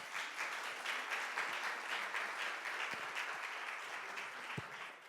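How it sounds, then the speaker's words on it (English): Steady applause from a crowd, continuous clapping at an even level throughout, with a faint voice or two underneath. "a round of applause"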